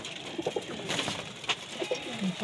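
Domestic pigeons coo in a loft, several soft low calls scattered through a few seconds alongside light rustling, moderately close and fairly quiet.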